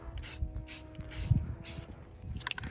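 A can of Satin Lagoon spray paint gives several short, breathy hissing bursts as it lightly dusts a space-themed painting, close and fairly quiet, with brief pauses between the sprays.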